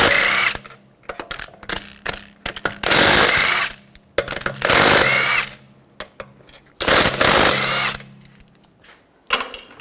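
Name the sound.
power tool removing wheel lug bolts on BMW 535i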